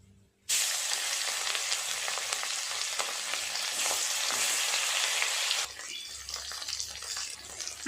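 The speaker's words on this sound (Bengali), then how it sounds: "আর যে বাকি মাছগুলো আছে ওগুলোও ভেজে নেব।" Bhangar fish fries in hot oil with a loud, dense, close sizzle that starts abruptly, holds steady for about five seconds, then drops to a quieter crackle.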